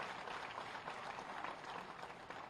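Steady applause from an audience at a state teachers' award ceremony on Teachers' Day, a faint, continuous wash of clapping with no voices.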